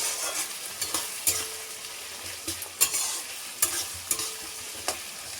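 Onions and tomatoes with salt frying in a pan for a desi chicken curry, a continuous soft sizzle punctuated by periodic scraping knocks of a stirring spoon against the pan, no talking.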